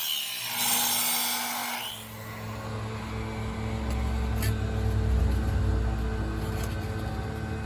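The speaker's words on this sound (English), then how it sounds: "that's what happens when you use an old saw" Old hand saw cutting wood for a hot rod frame, rasping back-and-forth strokes that build into a steady close, rhythmic scrape after a brief quieter start.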